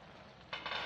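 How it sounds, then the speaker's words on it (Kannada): Masala spices for a mutton curry fry in a pan, a low steady hiss that suddenly swells into a louder, brighter sizzle halfway through, heard close with no talking. "ಈಗ ಎಲ್ಲ ಮಸಾಲೆ ಸ್ವಲ್ಪ ಫ್ರೈ ಆಗಲಿ."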